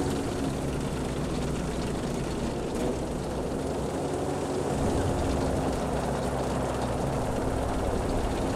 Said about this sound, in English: This plane is beelining. Low.